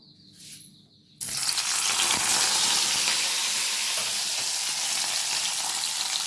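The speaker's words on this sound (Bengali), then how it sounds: "খুব কম তেলে এবার আমি পেঁয়াজটা ভেজে নেব" Onion frying in a little oil, a loud, dense sizzle that bursts in suddenly after a quiet second and then hisses steadily at close range.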